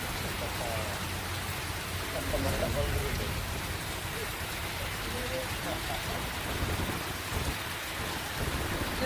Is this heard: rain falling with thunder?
yes